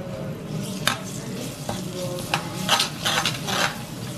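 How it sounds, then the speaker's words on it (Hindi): Garlic frying in a pan sizzles steadily, with occasional clinks and scrapes of a utensil stirring, and no voices. "गार्लिक को भी अच्छे से पकाते हैं।"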